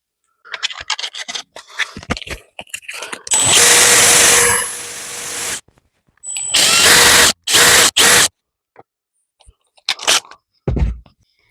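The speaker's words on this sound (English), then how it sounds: "I'm just going to put it in the drill and" A power drill spins a wooden dowel against sandpaper in loud bursts of whirring and scratching: one long run of about two seconds, then several shorter runs, with quieter handling scrapes and taps in between.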